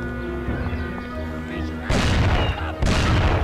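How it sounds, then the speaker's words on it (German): Two loud, booming gunshot blasts in the PS2 game Mafia, the second following about a second after the first, over steady background game noise. "Einen Schuss gehört."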